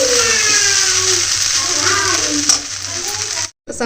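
Poha mixed with onion, salt and turmeric sizzles and crackles as it is roasted and stirred in a pan, a steady close frying hiss with scraping stir sounds, ending in a brief silence.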